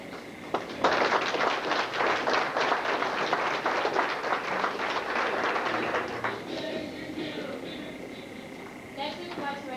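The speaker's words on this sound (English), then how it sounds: "Please join me in a final round of applause for our pasture and range contest winners." An audience at an FFA awards ceremony bursts into applause for contest winners, a dense burst of clapping that swells quickly, holds for several seconds, then fades to scattered claps.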